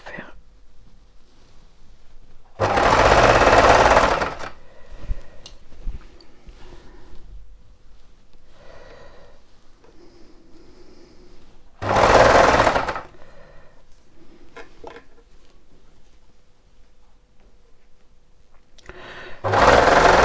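Domestic sewing machine stitching a Burda shirt, two loud bursts of running stitches separated by quieter handling and faint background noise, with another burst starting at the very end.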